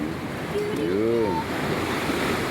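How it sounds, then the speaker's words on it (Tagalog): Big ocean waves surge and wash continuously nearby, with wind buffeting the microphone and a brief voice calling out over the roar. "Steve, Laki ng alon guys oh"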